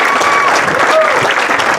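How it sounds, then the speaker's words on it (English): A loud, dense round of applause for band members and front-line performers at a summer meet-the-band night, sustained clapping filling the room with faint voices mixed in. "Let's give one more round of applause to all the band and band front members"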